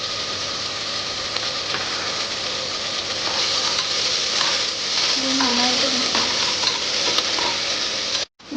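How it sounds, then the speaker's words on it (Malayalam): Ginger-garlic paste and tomato sizzle and fry in a pot for Ramadan nombu kanji, a steady close crackle with scraping stir strokes running throughout, ending in a brief clunk. "ഇഞ്ചി വെളുത്തുള്ളിയുടെ പച്ചമണം മാറുന്നത് വരെ നമുക്ക് ഇളക്കി കൊടുത്തോണ്ടിരിക്കും."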